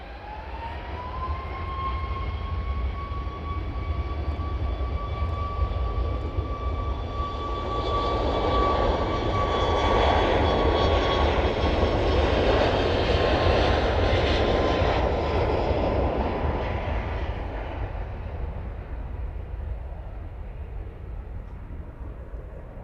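A large aircraft lands on runway 09 at East Midlands Airport, a loud sustained jet roar with a rising whine that swells through the middle and eases slightly toward the end.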